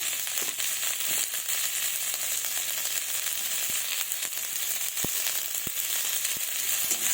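Potatoes frying in a pan with salt and turmeric, a steady bright sizzle running throughout with occasional sharp crackles and pops, close and continuous, no voices.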